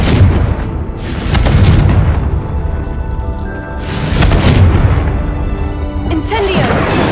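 Confringo blasting spell explosions in a video game, heavy booming blasts that swell and rumble in waves, loud and close, with a crackling burst near the end.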